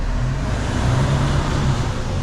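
Truck pulling a semi-trailer maneuvering close by, a loud steady diesel engine rumble with low idling drone and road noise, no talk over it.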